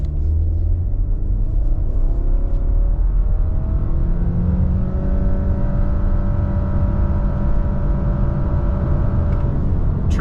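A 2024 Subaru Crosstrek Sport in sport mode with traction control off accelerates hard from 0 to 60 mph at high altitude. The loud engine drone climbs steadily in pitch through the gears, close and alone with no talk.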